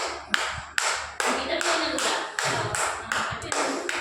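Hands clapping together in a series of about ten sharp claps at a steady, moderately quick rhythm, loud and close, with a voice murmuring faintly underneath.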